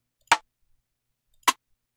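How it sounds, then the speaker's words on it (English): Rim shot drum sample played in Ableton for a UK drill beat: two short, dry, clicky strikes about a second apart, crisp and isolated against silence. "These ones are more like rim shots."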